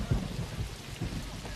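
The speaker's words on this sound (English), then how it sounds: "The storm was coming right at them." Thunderstorm bearing down on stuck storm chasers, low rumbling thunder rolling beneath a steady hiss of rain, fairly faint and distant-sounding.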